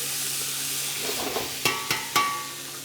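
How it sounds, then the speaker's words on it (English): Lamb Wellington ingredients sizzling in a very hot pan while being stirred, a steady hiss with three sharp scraping knocks of the utensil near the end, close and without talk. "Give that another little stir."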